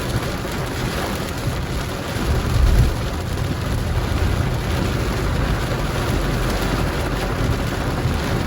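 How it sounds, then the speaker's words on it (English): Heavy tropical rain pours steadily on a vehicle driving through Falmouth, Jamaica, a dense continuous wash with low rumble and a brief louder swell partway through. "It's raining cats and dogs."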